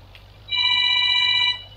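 A single loud electronic telephone ring lasts roughly one second over a quiet hum, then cuts off, with no voices.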